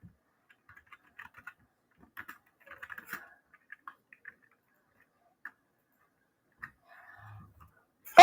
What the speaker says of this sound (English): Let's type Zia the painter.